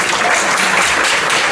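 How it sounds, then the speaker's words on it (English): Many hands clap together in a large audience at an impact investing conference, producing a short, dense, steady wash of applause at full volume throughout. "Clap your hands if you met someone new today."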